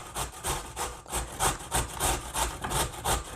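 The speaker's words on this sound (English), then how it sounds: "I just grate my carrot on this side of the grater" A carrot is rubbed briskly against a metal grater in quick, rhythmic rasping strokes, each scrape close and loud with a scratchy, gritty texture, repeating steadily with no talking.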